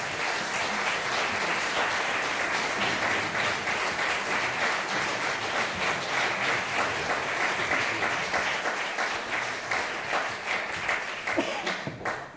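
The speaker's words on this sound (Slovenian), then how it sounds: "Še en aplavz za slavljence, prosim." Sustained applause from an audience at a choir celebration marking 40 years of twinning, steady clapping filling the room throughout and fading slightly near the end.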